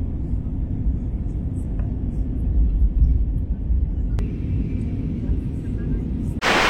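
Low, steady rumble of an airplane at an airport before a flight to Liverpool fills the scene, with a few faint clicks and a brief loud burst at the end.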